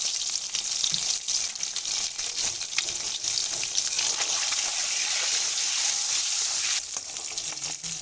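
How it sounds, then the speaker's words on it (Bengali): Eggs seasoned with turmeric and salt fry in hot oil, giving a loud, steady, close sizzle with bubbling crackle throughout; the sizzle eases slightly toward the end. "এবারে আমি ডিমগুলো দিয়ে দেব। সামান্য একটু হলুদ, সামান্য একটু লবণ।"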